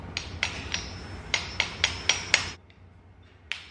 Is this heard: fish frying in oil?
no